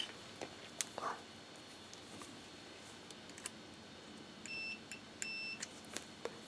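Quiet continuity tester probing a diode on a float battery charger board gives two short electronic beeps, with faint clicks and taps of the probes and a low background hiss.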